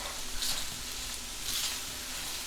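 Vegetable pasta being stirred in a hot pan, a steady sizzle with two brief scraping swishes of the spoon, close and fairly quiet, with no talking.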